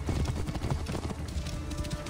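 Horse hooves clip-clopping in Assassin's Creed Origins, a steady rapid clatter of steps at close range, with faint game ambience beneath.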